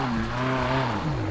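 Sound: Ferrari 458 Italia driving in video game BeamNG Drive

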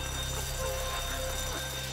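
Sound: bank alarm ringing in Grand Theft Auto V video game

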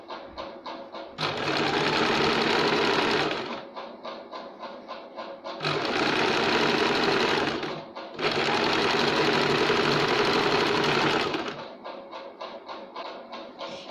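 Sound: sewing machine double-stitching a lined katori blouse

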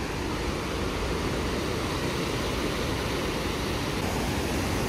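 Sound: waterfall, Shell Falls in Montana

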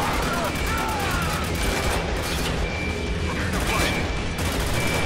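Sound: gunfire in the video game Spec Ops The Line

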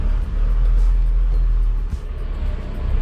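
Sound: Tata Xenon Yodha 4x4 engine running at fixed RPM in four-wheel low

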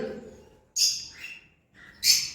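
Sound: pet cockatiels and African lovebirds calling

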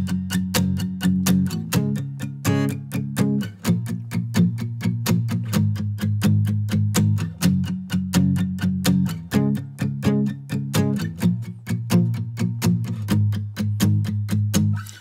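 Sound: acoustic guitar chord riff

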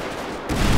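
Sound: gunshots in a video game

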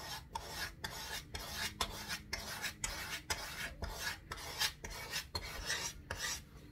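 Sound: hand scraper scraping violin wood

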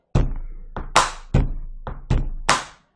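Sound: pen tapping a beat, bass, bang, clap

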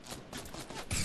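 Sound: gunfire in the video game Fortnite

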